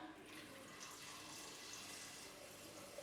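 Water poured into a cooking pot while making cocoyam porridge, a steady continuous splashing and running stream that lasts throughout at moderate loudness with no talking.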